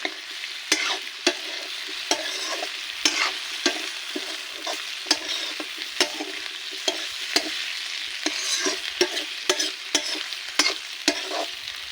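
Potato bhunjia frying in a pan, Chhattisgarhi style, with a steady hiss of oil under repeated sharp scrapes and clinks of a spatula stirring the potatoes, close and continuous with no voices.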